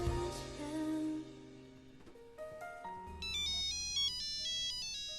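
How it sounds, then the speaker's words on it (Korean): A phone ringtone in a film, a melodic electronic tune of bright, repeated tones that shifts in pitch and rhythm partway through, heard alone and moderately loud. "한편 선배의 전화를 받게 된 명은 급히 어디론가 향하는데요."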